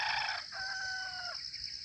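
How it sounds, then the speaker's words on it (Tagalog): A bantam rooster crows once at a distance in the open, a brief faint call rising and then holding, with no talking. "tumitilaok si bantam, si Talisay"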